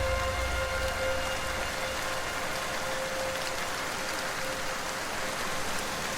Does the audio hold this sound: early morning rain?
yes